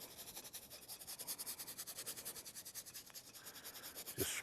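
A paintbrush scrubs clear medium onto canvas in steady, close back-and-forth strokes, a continuous rhythmic rubbing with no voices.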